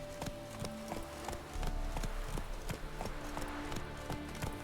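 Horse hooves clip-clop at a steady walking rhythm in The Witcher III, moderately loud against a dense game soundscape of music and ambient noise, with no talking.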